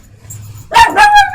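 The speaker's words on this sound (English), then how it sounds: "That's the alarm dog." A dog in a video game gives two sharp, loud barks in quick succession, close and clear over a faint low background hum.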